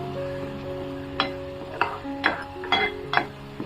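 Onion, tomato and masala being sautéed in a pan for a bangda (mackerel) fish curry: a low steady sizzle broken by several sharp spoon scrapes and stirs against the pan.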